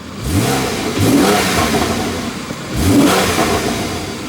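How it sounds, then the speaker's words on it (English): A Porsche 911 engine in sport mode revs hard twice, rising sharply and falling back each time, loud and close, with a throaty idle in between. "Put it in sport mode, give it a couple revs."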